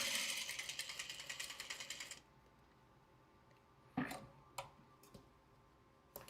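A sewing machine stitches fabric in a quick, rhythmic ticking run for about two seconds and then stops. Scattered faint clicks and knocks follow in a quiet room, and there is no speech.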